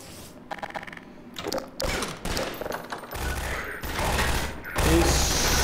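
Gunfire in Half-Life 2, a series of loud bursts and shots coming in clustered blasts over several seconds, broken by short gaps, with a low rumbling game background.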